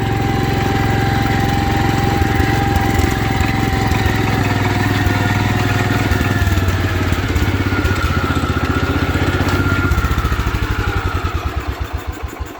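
A 1972 Wheel Horse Raider 12 lawn tractor, sitting unused in a shed for 15 years, runs with a loud, steady single-cylinder engine chug close by, slowing into separate pulses as it winds down at the end.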